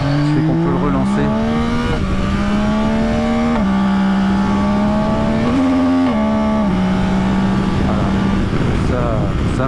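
A Yamaha Tracer 9 GT+ three-cylinder motorcycle engine pulls hard in rising and falling steps as it accelerates through the gears, loud and close with rushing wind; a voice talks over it.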